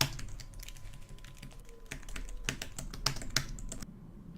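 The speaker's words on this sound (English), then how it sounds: "The keys sound great, which is a silly must for me as well." Keys tap on an Anker keyboard case for the 2020 iPad Air in a steady, irregular patter of crisp clicks that grows busier and louder toward the end.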